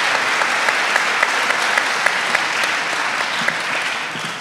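A church congregation applauds loudly during a Portuguese-language sermon, a dense, sustained wash of clapping with scattered sharper claps standing out, continuing steadily before tapering slightly at the end.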